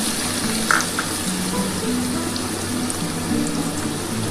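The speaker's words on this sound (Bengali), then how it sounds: "এবার হালকা করে পনিরগুলো ভেজে নিচ্ছি" Paneer pieces frying lightly in hot oil in a pan, a steady close sizzling hiss that holds evenly throughout with no talking.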